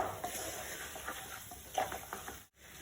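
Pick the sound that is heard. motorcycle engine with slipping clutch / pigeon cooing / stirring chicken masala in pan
stirring chicken masala in pan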